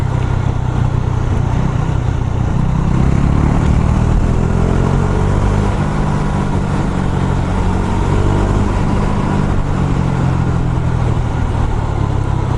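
A KTM 390 Super Duke motorcycle engine pulling hard on a road, a loud sustained single-cylinder roar rising in pitch through the gears, steady and close with strong wind noise.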